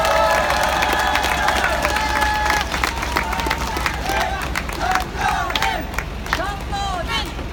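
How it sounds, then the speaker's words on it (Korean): A large crowd at a Korean election campaign rally in Jeongeup cheers and shouts together, with whistles and scattered clapping rising over a continuous roar of voices. "정도진 정읍시장 후보에게 뜨거운 박수를 한번 더 보내주시면 고맙겠습니다."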